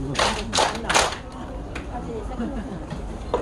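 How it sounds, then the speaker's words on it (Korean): An audience claps three times in unison, three sharp, evenly spaced group claps close together, followed by a speaking voice over quiet room noise. "자, 박수 세 번 시작"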